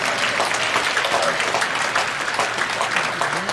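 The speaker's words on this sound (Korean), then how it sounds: "우리 마스크를 쓴 분들을 위해서 박수 치겠습니다" Worshippers at a Friday overnight church service applaud, a thick continuous patter of many hands, with a voice faintly present beneath the clapping.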